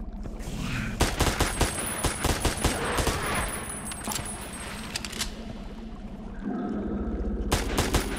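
An enemy fires gunshots in the post-apocalyptic video game Ashes 2063 inside a spooky subway, a loud rapid volley of sharp cracks and clattering echoes, with a brief pained exclamation from a voice.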